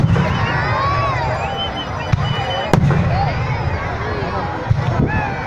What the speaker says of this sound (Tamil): இப்ப விட்டுட்டு இருக்க வானம் பார்த்தீங்கன்னா நரேந்திரன் ஃபயர் ஒர்க்ஸ் காஞ்சிபுரம் அவங்க வான தயாரிப்பு